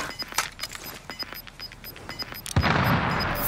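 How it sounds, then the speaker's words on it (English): Gunfire in the video game Call of Duty Warzone crackles as a rapid series of sharp shots, moderately loud, followed by a louder burst of noise near the end. "Shots to the right."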